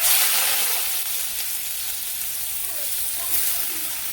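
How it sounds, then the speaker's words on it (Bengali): Washed pumpkin dropped into a pan of cumin seeds frying dark in oil, giving a loud, dense, steady sizzle close by that fades only slightly as it continues. "এখন আমি যে কুমড়া ধুয়ে এনে রাখছি দিয়ে দিই।"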